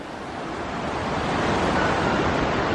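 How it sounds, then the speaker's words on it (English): Floodwater rushes through a cleared neighborhood channel in North Caloocan, Philippines, the morning after Typhoon Ambo. It makes a steady, broadband roar that swells slightly louder midway through, with no voices. "The water can now flow through here a lot better."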